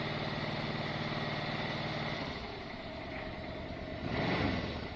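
Yamaha RS Venture snowmobile engine idling steadily after winter storage, a close low throbbing hum that rises briefly into a rev near the end.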